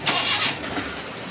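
A Suzuki Mehran car engine cranks and catches after its exhaust silencer was repaired, a brief loud start that quickly settles into a quieter, smoother running hum.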